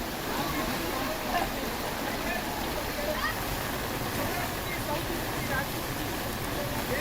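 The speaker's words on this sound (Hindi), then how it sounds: "लगातार बारिश के कारण पानी भर गया है।" Floodwater after heavy, continuous rain in a city, a steady broad rushing and sloshing of flowing water that holds at an even level throughout, with voices underneath.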